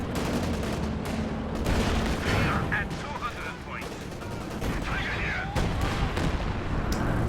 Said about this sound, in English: we got strafing support coming in once again